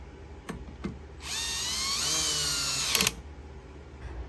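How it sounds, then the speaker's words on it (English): Power tool driving brake rotor retainer screws on a Kia Sorento rear brake job: a couple of sharp clicks, then a steady high whirring run of about two seconds that dips slightly in pitch under load before stopping, close and alone. "So replace your retainer screws and don't put too much torque on because they strip really easily."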